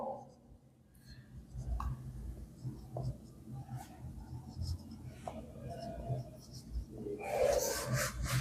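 Pen scratching on paper while a geometry figure is drawn, faint and close, with irregular strokes and soft rubbing throughout.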